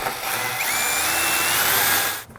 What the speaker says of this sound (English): That's the grinding sound of the blade